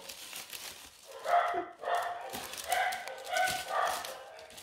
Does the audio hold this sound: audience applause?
no